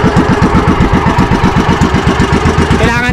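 A fishing boat's engine runs steadily at sea during a tuna catch, its close, loud, rapid chugging pulses repeating evenly throughout without pause.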